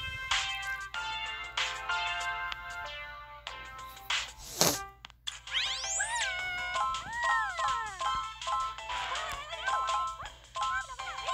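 A cat meows repeatedly, close and clear, with drawn-out rising and falling calls that grow more insistent in the second half.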